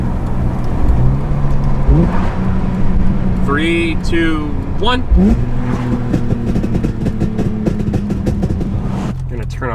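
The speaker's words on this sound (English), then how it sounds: "so I'll let you guys hear the downshifts for that." BMW E46 M3 with SMG gearbox heard from inside the cabin, the engine blipping up sharply through a series of quick downshifts, about three rev spikes in sequence over steady road noise, with a voice counting along.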